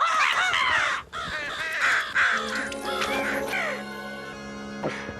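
Several crows caw in a cartoon scene from The Simpsons, a burst of harsh overlapping calls up close that thins out into a sustained tone near the end.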